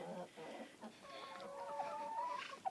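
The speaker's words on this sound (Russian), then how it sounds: "Ну-ка, курочка, что ты там сидишь?" A hen in a snowy winter chicken coop gives soft, close clucks and a drawn-out, wavering croon, fairly quiet, with a person talking at times.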